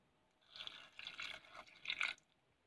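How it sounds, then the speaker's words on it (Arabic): A quarter cup of rose water is poured onto beetroot cubes, a faint, close trickle and drip lasting about a second and a half, rising in small bursts before stopping. "هحتاج بقى من ماء الورد مقدار ربع كوباية وهضيفها بقى دلوقتي على مكعبات البنجر"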